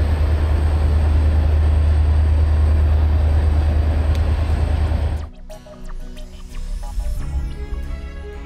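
An empty rake of the Shalimar Express rolls past at Jaisalmer with a loud, steady rumble that cuts off sharply after about five seconds, leaving quieter clanks and scattered mechanical sounds.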